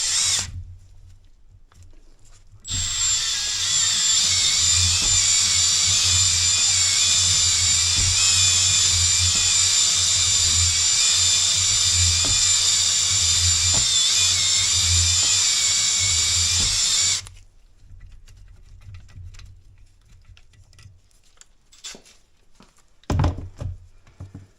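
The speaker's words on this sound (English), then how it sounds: "make sure when you get this in here that you lower the hone at least past the ports" A power drill spins a hone inside the cylinder of an IAME KA100 kart engine, giving a loud, steady high whine for about fifteen seconds that starts and stops abruptly, followed by quieter handling clatter.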